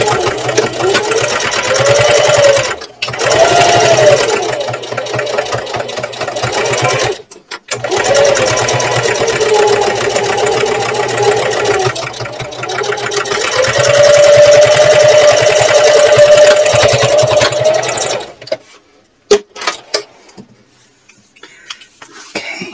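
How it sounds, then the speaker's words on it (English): Sewing machine stitching a fabric purse with a 1/4 inch seam allowance: loud, close whirring runs of rapid needle strokes broken by brief stops, ending with quieter handling clicks. "now I want to sew using a 1/4 inch seam allowance"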